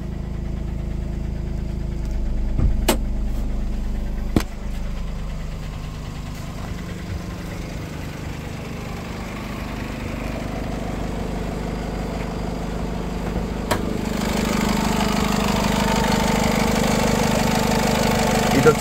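A 2015 Honda City V diesel engine idles steadily with the bonnet up, a low continuous rumble with a few sharp clicks, growing slightly louder and fuller toward the end.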